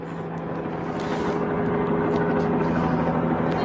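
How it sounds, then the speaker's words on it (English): Police helicopter overhead, a loud continuous rotor and engine drone with a steady low hum that swells slightly as it nears. "Police presence or helicopter presence. There, you can see the helicopter."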